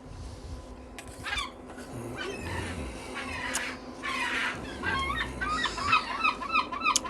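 Seagulls call at the seaside, with repeated harsh squawking cries over a steady bed of outdoor background noise.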